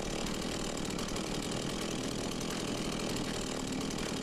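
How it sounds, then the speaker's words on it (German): A chainsaw engine runs steadily in the horror video game Beyond Hanwell, a continuous buzzing drone at constant loudness throughout, with no talking. "Wir haben ja noch unsere geile Kettensäge."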